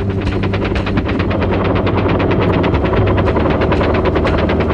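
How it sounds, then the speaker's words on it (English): An M60 machine gun firing from a UH-1 Huey helicopter: a loud, continuous rapid burst of shots at a steady rhythm, layered over the constant rotor and engine roar, with no talking. "The M60 machine gun fired at a rate of 550 rounds per minute."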